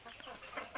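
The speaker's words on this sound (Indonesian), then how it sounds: "Nah, ini si jago ini" Rooster clucking repeatedly in a farmyard while seeking a rival, a steady run of short, close clucks with a few louder bursts near the end.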